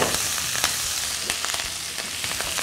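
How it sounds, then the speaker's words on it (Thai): Celery, garlic and pickled mustard greens stir-fried in hot oil for a Thai braised duck dish, a steady close sizzle broken by quick scrapes and clatters of the spatula tossing the greens in the pan. "กระเทียมกับเกี๊ยมฉ่ายเราถูกผัดรวมกันในน้ำมันจนเกี๊ยมฉ่ายเราหอมแล้วนะครับ"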